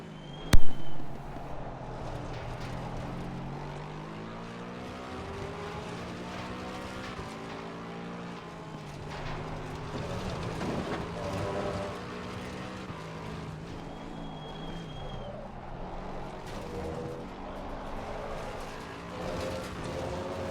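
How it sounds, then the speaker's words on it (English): A Lexus race car in Assetto Corsa Competizione at Kyalami drones steadily through shifting revs, its engine note rising and falling in layered harmonics after a sharp click at the start, with no talk over it. "Let's listen to the sounds of the Lexus racing here."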